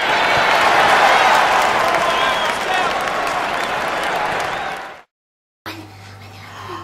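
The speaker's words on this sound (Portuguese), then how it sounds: "Uma salva de palmas." Guests at a baby's ten-month birthday party give a loud round of applause with some cheering, sustained clapping for about five seconds before a sudden cut to quiet room tone.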